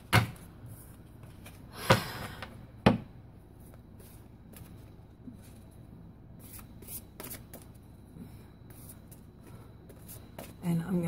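A deck of cards being shuffled by hand, with a few sharp riffle bursts early on, then softer rustling and handling noises close to the mic before a final flurry of shuffling.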